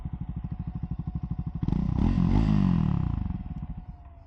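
A Triumph Scrambler 400X motorcycle rides past with a pulsing engine note, rising into a louder, fuller roar midway before easing slightly, rough and close throughout.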